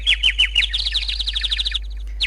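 A bird chirps in quick repeated tweets, bright and close, in a steady run that stops briefly before resuming.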